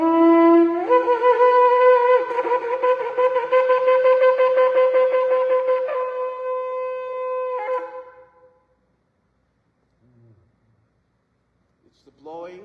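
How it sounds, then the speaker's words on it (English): A shofar sounds a teruah: an opening blast followed by a run of short staccato blows, loud and alone, then fading into near silence with faint sounds at the end. "This is the sound of teruah."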